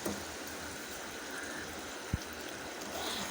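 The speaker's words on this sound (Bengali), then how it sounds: "দিয়ে দিচ্ছি ঝোল" Broth pours into a pot of thin khichuri cooking with beef fat, giving a faint, steady trickling splash close by, with one brief knock partway through.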